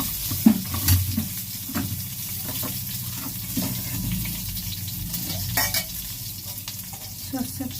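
Something frying in mustard oil in a kadai over a lowered gas flame, a steady sizzle with scattered crackles and faint utensil knocks, no talk.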